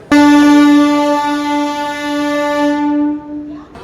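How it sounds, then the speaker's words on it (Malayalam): A DEMU train at a railway station sounds its horn in one long, loud, steady blast lasting about three seconds, then fades out, with no other sound over it. "ഒരു ഡെമോ ട്രെയിൻ ആണ് കേട്ടോ, ഡെമോ ട്രെയിൻ"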